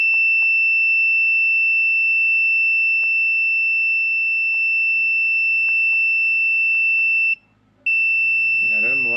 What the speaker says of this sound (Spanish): Vamos a ver si la alarma va a continuar ahí.